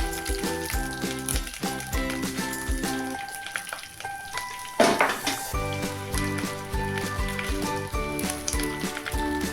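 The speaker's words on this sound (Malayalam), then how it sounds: "ഇനി നമുക്കിത് വെളുത്തുള്ളി ഇടാം." Garlic frying in a pan for a traditional prawn curry, a continuous sizzle with occasional clinks of utensils, under steady tonal background sound.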